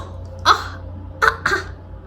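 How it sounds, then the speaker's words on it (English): Three short, breathy coughs from a small child, one then a pause and two close together, sounding forced rather than sick. "sometimes he fake coughs, so."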